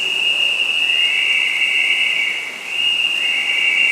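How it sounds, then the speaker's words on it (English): A steady, piercing whistle tone sounds continuously at a masters long course swimming championship, holding one pitch with a slight shift midway, loud over faint background noise. "And now the rest of the whistles."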